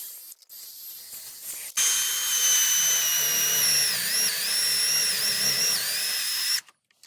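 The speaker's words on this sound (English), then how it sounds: "I'm just going to use a unibit to drill my hole" A unibit step drill bores a hole through plastic for a gauge pillar pod, a steady whining grind with pitch wavering as the bit steps, running close and loud for about five seconds after brief handling noises.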